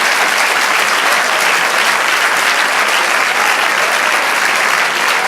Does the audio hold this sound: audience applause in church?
yes